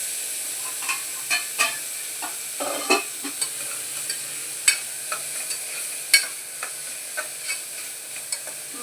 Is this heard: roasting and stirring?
yes